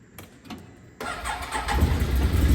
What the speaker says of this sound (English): This is what we all hope for, is the start after troubleshooting.